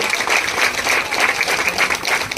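Crowd at a saree distribution event clapping hard in welcome for a chief guest, a sustained, even roar of many hands applauding close by.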